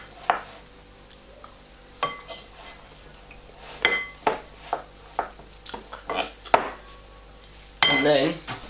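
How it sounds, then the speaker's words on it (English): A spoon scrapes and clinks against a bowl in a string of short, close knocks and rubs as a healthy cold pasta dish is stirred, ending in a longer scraping rub. "And give it a mix."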